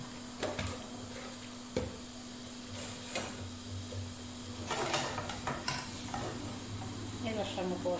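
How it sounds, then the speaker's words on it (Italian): Smoked guanciale sizzles quietly in a small pan on a gas stove, a low steady frying hiss broken by a few utensil clicks and stirring scrapes. "con questa padellina andiamo a mettere il guanciale affumicato"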